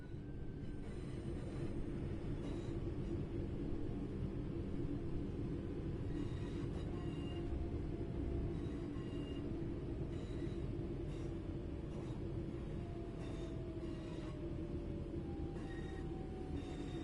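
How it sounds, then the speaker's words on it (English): In the video game Train Sim World 5, a train brakes to a stop with a steady rumble of wheels on track, long high squeals rising and fading over the rolling noise, and no voices. "it's time to bring the train to a stop."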